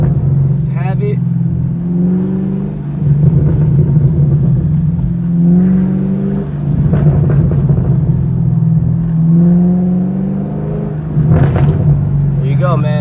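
A Chevrolet Camaro's engine rumbles steadily while cruising in third gear under 30 mph, with repeated exhaust pops and crackles breaking through. A voice talks over the engine throughout.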